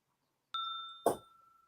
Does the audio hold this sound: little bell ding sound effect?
yes